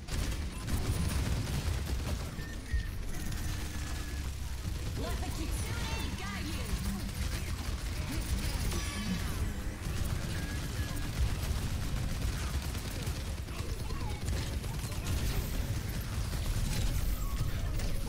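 Rapid, sustained weapon fire and mechanical clatter in the Overwatch 2 shooter run steadily throughout, mid-level and busy, with voices talking over the action.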